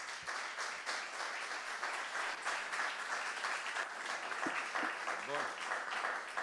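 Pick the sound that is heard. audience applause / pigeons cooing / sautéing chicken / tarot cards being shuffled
audience applause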